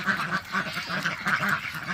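Ducks quack repeatedly in a muddy duck and chicken coop after days of rain, a steady run of nasal calls close to the microphone with a low bird murmur underneath.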